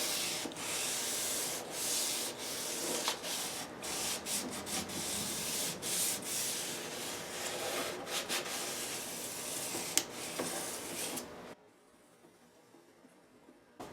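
600 grit sandpaper rubbed over the wood of a ten-string classical guitar makes close, steady rasping strokes in a quick back-and-forth rhythm, then cuts off into near silence.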